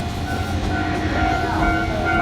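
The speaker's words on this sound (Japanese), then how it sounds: "この電車は上り銚子行き電車です。" A Choshi Electric Railway train runs with a continuous rumble and a steady rolling hum, close and fairly loud, with no talk over it.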